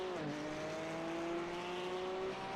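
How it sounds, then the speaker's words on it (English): A Porsche race car on track, engine droning steadily at high revs with a rising and shifting pitch, heard continuously from on board at moderate level with no voices. "Beautiful sound of these Porsches"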